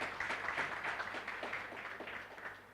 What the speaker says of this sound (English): We need to clap for this team.